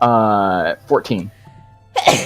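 A single sharp sneeze bursts out near the end of a tabletop role-playing session, following a sung-sounding voice and scattered talk among the players.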